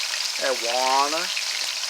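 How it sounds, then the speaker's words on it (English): Steady crackling sizzle of beef stir-frying in a hot pan in small batches for pepper steak, with a voice speaking briefly over it. "stir frying this bad boy beef."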